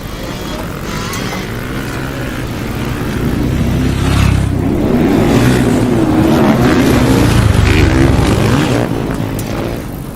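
Motorcycles racing at Glen Helen Raceway, engines droning and revving from mid-distance as they swell louder toward the middle and fade slightly at the end, with faint voices nearby.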